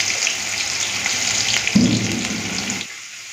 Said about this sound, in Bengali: পেঁয়াজটাকে একটু লাল করে ভেজে নিই প্রথমে।